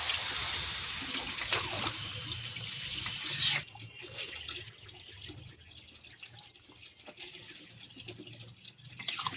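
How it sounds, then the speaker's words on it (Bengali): Water splashes into a pan of potato curry as a loud, hissing rush for a few seconds, then cuts off sharply, leaving a quieter low bubbling and faint clatter. "এবার একটু জল দেবো, অল্প করে"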